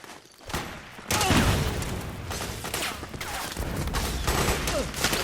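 Gunfire in Metal Gear Solid 4, a dense stretch of rapid shots and bursts over continuous battle noise, loud and sustained after a brief quieter start.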